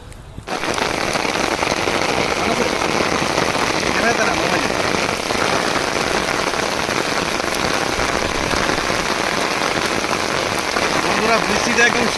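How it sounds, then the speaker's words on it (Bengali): Heavy rain pours onto a rice paddy field during planting, a loud, close, continuous patter and hiss of drops that starts abruptly and stays steady to the end. "বৃষ্টিতে ধান গাড়া চলছে"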